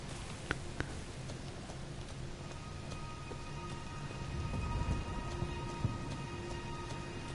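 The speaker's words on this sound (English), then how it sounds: "It's raining, which actually helps me here." Steady rain in a video game (Elden Ring) patters on surfaces with scattered drips and ticks, a soft continuous wash with a faint electronic hum underneath.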